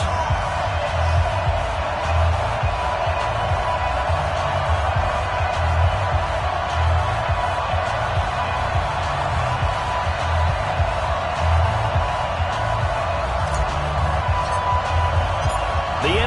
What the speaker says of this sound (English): This crowd is ready as their guys get set to match up between the New York Jets and the San Francisco 49ers.